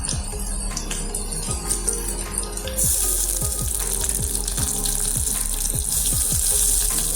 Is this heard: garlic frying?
yes